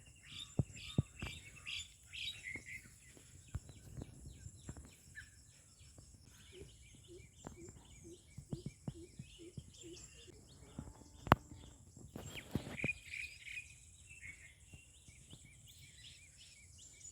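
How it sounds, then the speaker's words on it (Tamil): Small birds, sparrows among them, chirp and tweet repeatedly in open countryside near vegetable plots and maize fields, a busy overlapping chorus of short calls with faint insect buzzing underneath and no talk. "சிட்டுக்குருவி உங்களுக்கு கேட்கும் நல்லாவே."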